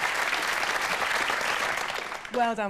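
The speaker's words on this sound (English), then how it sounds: "Let's have a round of applause for" Studio audience at a televised elimination show clapping steadily in dense applause, with a host's voice cutting in at the end.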